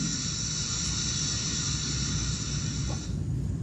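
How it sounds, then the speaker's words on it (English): Calcium carbonate fizzes in hydrochloric acid as carbon dioxide gas bubbles off, giving a steady, close, dense hiss that holds without a break and with no voices. "So you can see there the fizzing."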